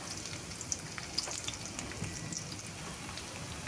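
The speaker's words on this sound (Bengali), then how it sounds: "ওই তেলের মধ্যেই, মাছের তেলগুলোর মধ্যেই আমি পটল আর আলুগুলো ভেজে নিচ্ছি।" Pointed gourd and potato pieces fry in leftover fish oil, a soft, even sizzle with faint popping spatters throughout.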